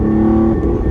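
Ferrari Dino 246 GTS mid-mounted engine under throttle, a loud, close, steady harmonic drone that holds a pitch and then shifts slightly, heard alone without talk.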